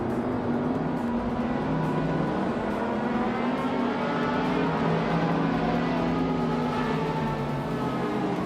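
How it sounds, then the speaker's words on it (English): In a racing video game, several race car engines roar in a dense, continuous wash of revving and whine. The sound stays loud and steady throughout, with no talking. "Nyarlathotep 98 just overtook Shoot 'em Up and is now in 2nd place."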